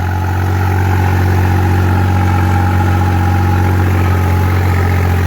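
A New Holland 3630 TX Plus 4x4 tractor with an open, mesh-covered upper silencer runs at a steady idle, a loud, close, unbroken low rumble with a constant hum.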